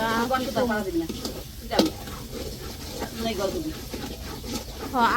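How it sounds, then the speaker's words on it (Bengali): Khichuri cooking in a pot in the morning, with steady sizzling and the scrape of stirring under close, ongoing conversation between people. "সকাল সকাল খিচুড়ি রান্না করতেছে"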